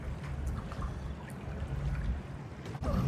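Keith's Great Barrier Express boat coming in near Marsden Cove Marina, a steady low engine drone mixed with water wash and splashing that holds fairly constant throughout.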